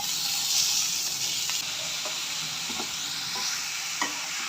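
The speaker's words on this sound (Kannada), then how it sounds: "ಅದನ್ನು ಫ್ರೈ ಮಾಡೋಕ್ಕೆ ಹಾಕ್ತಾ ಇದ್ದೀನಿ" Chopped onion and tomatoes frying in a pan for a home-cooked fish sambar, a constant bright sizzle and hiss with a few soft stirring scrapes and clicks, close and alone.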